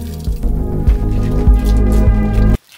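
Soda pouring out in a gurgling, glugging stream with rhythmic throbbing pulses, close and loud, stopping abruptly near the end.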